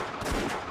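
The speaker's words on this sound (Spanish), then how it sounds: "Terán disparó varios tiros." Several gunshots fired at close range in quick succession, a broad loud burst filling the short moment with no voices.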